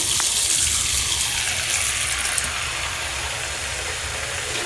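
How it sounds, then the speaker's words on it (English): Water gushes steadily from a tap into a sink, a constant hissing splash close by that eases slightly toward the end. "let's put some water in the sink."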